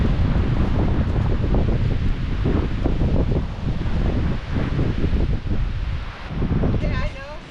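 Strong wind buffets the microphone beside a low, swift-flowing river, a loud, gusty roar that rises and falls, with a voice briefly audible near the end.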